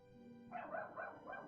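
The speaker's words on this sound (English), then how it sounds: "dog is going crazy because of the lawnmower" A dog barks in a few quick bursts close by, set against a steady low hum in the background.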